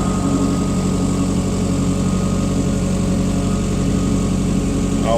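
A CAT 305.5 mini excavator engine runs steadily at a constant, near drone while the machine swings around during soil evaluation digging, with no talk over it.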